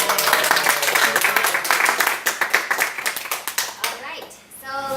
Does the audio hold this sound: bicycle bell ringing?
no